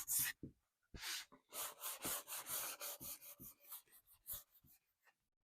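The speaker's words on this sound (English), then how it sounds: "you can take this fine sanding block and you can hit these radius edges" A fine sanding block rubbed over the rounded radius edges of a wooden piece, about a dozen quick rasping strokes in an even back-and-forth rhythm, close and clear with short pauses between.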